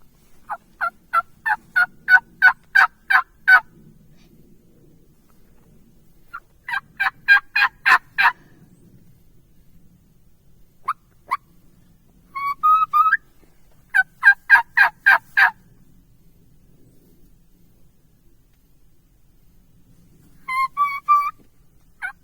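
Wild turkeys gobbling and yelping outdoors, several rapid bursts of rattling calls spaced by quiet gaps, moderately distant, with faint background rumble.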